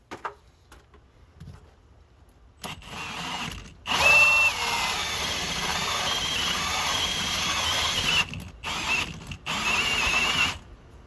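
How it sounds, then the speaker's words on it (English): A power drill whirs loudly in several bursts through concrete board, cutting out abruptly with ratcheting clicks as the torque-setting clutch stops it, brief quiet gaps between runs. "If you're wondering why the drill's stopping, it's because I have it set to one of the torque stop settings"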